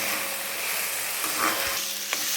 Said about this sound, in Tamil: வெங்காயம் நல்லா பொன்னிறமாக